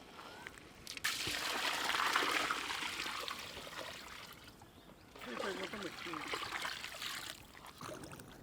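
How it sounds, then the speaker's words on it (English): Water poured into a pot of chicken donne biryani with green masala mix, a near trickling and splashing pour in two bursts with a short pause between. "Now we will add water."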